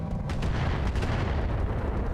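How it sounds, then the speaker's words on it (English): Rockets launching in the mech game BattleTech RogueTech make a dense, continuous barrage of deep rumbling booms and rapid thumps, loud and sustained throughout. "Probably not going to get another turn, so we'll get the rockets let go."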